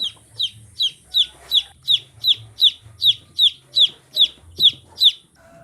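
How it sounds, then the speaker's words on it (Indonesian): A brood of chicks peeps in loud, regular high cheeps, about two per second, calling for their mother hen. Low, soft hen clucks sound intermittently underneath. "anak ayam akan berisik mencari induknya"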